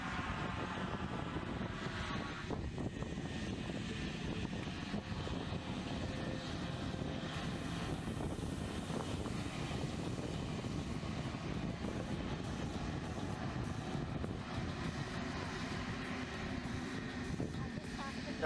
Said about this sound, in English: here's the King Air that was dropping parajumpers. Using reverse thrusters and everything right there